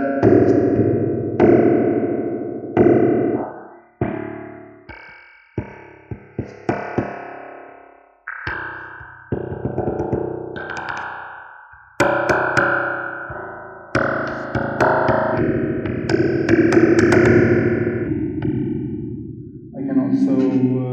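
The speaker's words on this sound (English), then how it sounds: "So now you can start to hear the reverb effect. You can see that there's a long tail." Taps on a table and a box pass through a real-time convolution reverb, each strike ringing out into a loud, long, echoing tail with a distorted, metallic shimmer, one tap after another.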